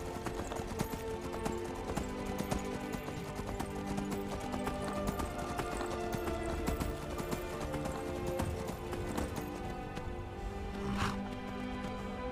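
Saddled horse in Skyrim clip-clopping along at a steady trot, hoofbeats close and even throughout, layered over constant game music and ambience, with a brief brighter chime near the end.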